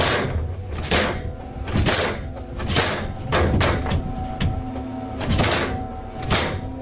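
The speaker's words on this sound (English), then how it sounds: "the attic door starts rattling jarringly" Attic door rattling in the early morning, picked up from inside a closet: repeated loud clattering bursts roughly every second, irregular and jarring, with no voices.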